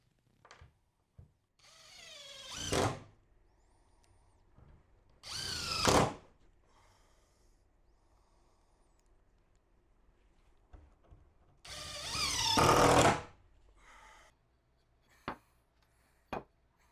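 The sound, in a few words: power drill driving corrosion resistant construction screws into frame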